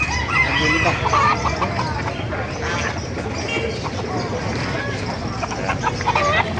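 Chickens cluck and a rooster calls amid a busy outdoor market in Calumpit, with people talking loudly throughout.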